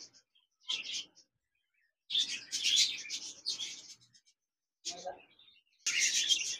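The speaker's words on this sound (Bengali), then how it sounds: "কোকাটেল পাখি রয়েছে, রানিং পেয়ার, বিগ সাইজের এই পেয়ার জোড়া" Lutino and grey cockatiels in cages chirp and whistle in bright bursts, with short gaps of quiet between them.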